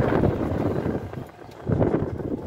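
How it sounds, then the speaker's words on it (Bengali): Riverside wind at Bakkhali buffets the microphone in strong low rumbling gusts, easing briefly in the middle before surging again, with no talking. "কেমন হাওয়া, খুব সুন্দর হাওয়া।"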